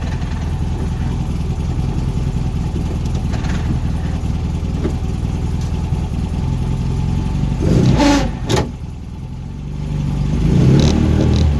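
A spec Mini race car engine with a Swiftune engine and Weber carburettor rumbles steadily at Castle Combe, rising in a couple of revs near the end, loud and close with no talking.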